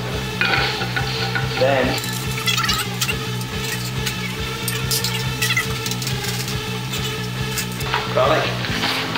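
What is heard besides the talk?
butter melting and sizzling in a pan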